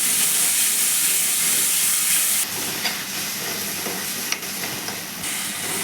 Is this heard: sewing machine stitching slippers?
no